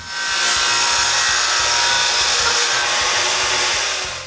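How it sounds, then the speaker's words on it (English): A strip of MDF is cut with a power saw in a woodshop while making a template for window frames, one loud, steady cutting roar that holds for a few seconds and then trails off. "I begin the template by cutting a strip of MDF."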